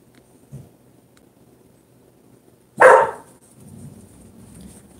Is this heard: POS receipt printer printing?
no